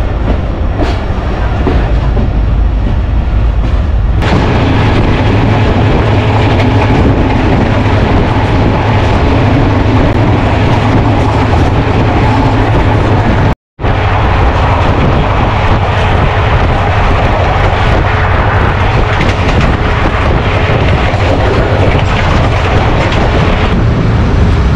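The Marvi Express train arriving at a station and entering its yard, a loud, continuous rumble of wheels and carriages with clickety-clack beating on, broken once by a brief cut, no talk.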